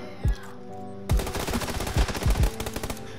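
A C4 charge detonates in a video game with a sudden loud blast, followed by a burst of rapid booming impacts and a few thumps, close and dense for about two seconds.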